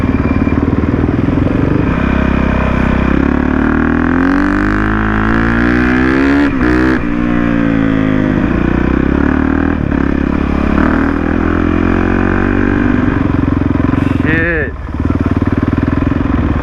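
A Honda CRF450R dirt bike climbs a canyon mountain trail near Santiago, Mexico, its engine droning steadily up close with rising and falling revs and brief clatter, while a rider's voice comes through now and then.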